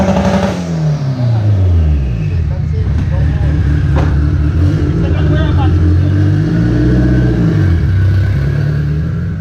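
A turbocharged Honda Civic EG with a GSR engine revs hard and holds a steady, loud engine drone throughout, with voices talking over the rumble.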